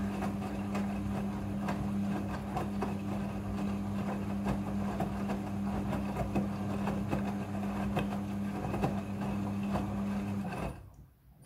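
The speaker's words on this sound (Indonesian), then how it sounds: "Air akan mengisi secara otomatis." Water rushes steadily into a Midea front-loading washing machine filling for a rinse cycle, over a low motor hum for about ten seconds, then cuts off abruptly.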